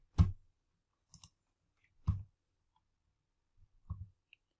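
Computer mouse clicks, three distinct close clicks spaced about two seconds apart, with a couple of fainter small clicks in between against near silence.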